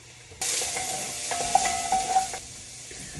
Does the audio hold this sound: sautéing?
yes